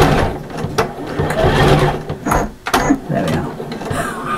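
A domestic sewing machine runs in bursts while sewing a bag, whirring and clattering mechanically with brief stops and restarts, close and loud, with some faint handling noise.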